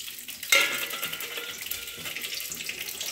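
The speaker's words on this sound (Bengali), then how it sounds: "এবারে ওই তেলে আমি কিছু কালো জিরে আর একটি চারটে আমি কাঁচা লঙ্কা দিয়েছি" Black cumin seeds and green chillies go into hot oil with a sudden soft burst of sizzling, which settles into a quiet, steady crackle and hiss.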